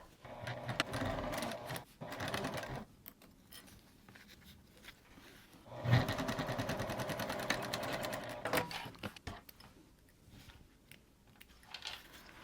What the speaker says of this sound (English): we're going to sew down those sides